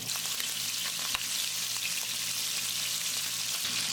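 Prawns fry in hot oil in a pan for Singapore noodles, giving a loud, continuous sizzle with crackling and occasional soft stirring sounds, and no voices.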